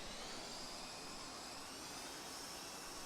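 Dassault Mirage F1 jet engine in DCS throttling up for taxi, a steady, loud broadband roar with a high whine that holds evenly throughout, no voices.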